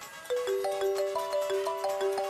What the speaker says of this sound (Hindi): तभी अचानक ही आहान का मोबाइल बज उठ